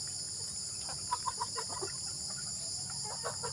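Pet chickens, including Texas and Rhode Island breeds, clucking in short soft bursts at moderate distance over a constant insect drone in the background.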